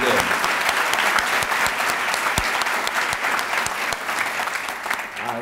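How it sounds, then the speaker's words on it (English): Sustained audience applause at a press conference, dense steady clapping from a crowd that holds at an even level for several seconds before easing slightly. "these individuals really deserve a tremendous round of applause"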